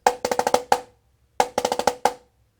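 A crisp snare drum plays a six-stroke roll twice: a quick burst of six sharp strokes ending on an accent, a pause, then the same figure again.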